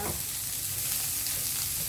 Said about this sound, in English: you can hear that sizzling, and gonna put some garlic in there